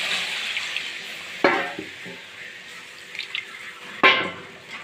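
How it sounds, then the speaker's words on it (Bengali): Water splashes into a pan of cooked-down mustard paste for a small fish curry, in two short pours a few seconds apart over a quiet background hiss. "এবার আমি জল দিয়ে দিলাম।"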